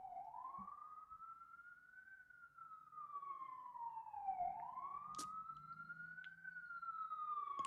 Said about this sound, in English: do y'all hear that siren? It's so loud.